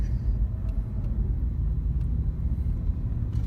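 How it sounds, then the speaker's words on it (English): A car rolling at about 16 km/h gives a steady, low engine and road rumble from inside, even and unbroken, with a few faint clicks on top. "I was sitting in a car moving at 16 kilometers per hour"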